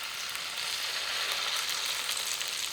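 Steady, loud sizzling of semolina and potato batter frying as small pancakes in a hot oiled pan, a dense continuous crackle with no pauses and no voices.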